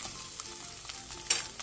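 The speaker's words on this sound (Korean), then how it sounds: "계란이 익기 시작하면 사이 간격을 멀리 두고 볶아줘야 계란이 큼직하게 나와요." Eggs stir-fried in a pan over medium-low heat give a steady, quiet sizzle, with faint scrapes from stirring and a brighter crackle near the end; no one speaks.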